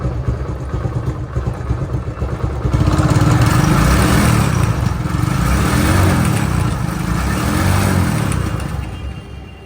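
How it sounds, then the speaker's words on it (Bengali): Motorcycle engine idling steadily after an electric self-start, a close, continuous mechanical clatter that grows slightly louder partway through. "সেলফ হয়ে গেছে কিন্তু গাড়ি রানিং আছে"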